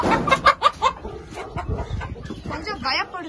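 Caged chickens of a large breed, kept for breeding on a hill-area farm, cluck and squawk close by. Someone talks over them throughout.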